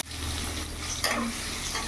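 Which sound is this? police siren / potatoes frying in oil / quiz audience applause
potatoes frying in oil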